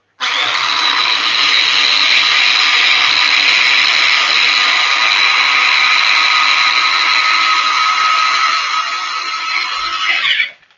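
A blender grinds a low carb falafel mixture, its steady loud motor whine running continuously for about ten seconds before cutting off abruptly, with no talking over it.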